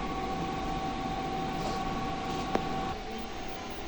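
Printer running a nozzle head cleaning cycle: a steady mechanical whir with a constant tonal hum, one sharp click near the end, then a slightly quieter running sound.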